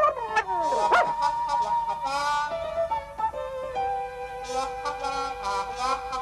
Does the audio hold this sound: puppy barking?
yes